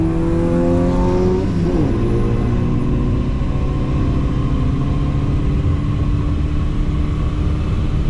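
A 1998 Subaru Forester launching in a drag race against a Beetle at Houston Raceway Park, the engine revving hard through rising gear sweeps before settling into a loud, steady roar, close to the car.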